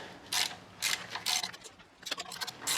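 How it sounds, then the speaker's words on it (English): A ratchet with a 14 mm socket loosening the alternator's back bolt on a 1987 Toyota Camry, several close bursts of rapid clicking separated by brief pauses. "With the 14 millimeter, I'll loosen the back bolt."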